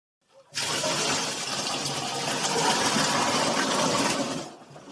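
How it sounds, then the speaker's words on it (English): Sugar water poured into a banana mash for moonshine makes a steady liquid rush that starts abruptly, holds for about four seconds, then tapers off. "we pour it into the banana mash"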